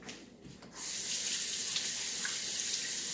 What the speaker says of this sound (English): Just rinse them with water.